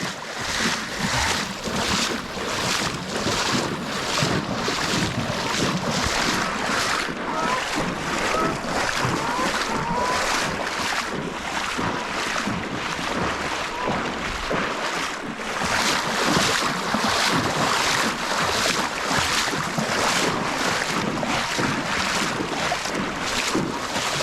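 A trail runner wades through deep, cold water on a trail during training for a 100-mile ultra: continuous splashing and rushing water mixed with heavy wind buffeting the microphone, loud and close for the whole stretch.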